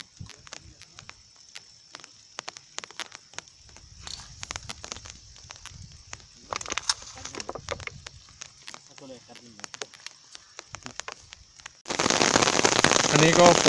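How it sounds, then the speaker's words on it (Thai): Rain patters in scattered, irregular drops beside a fishing pond in rural Thailand, close and crisp at first, then turns to a dense, loud hiss as the downpour sets in near the end. "อันนี้ก็ฝนลงเม็ดแล้วนะครับ"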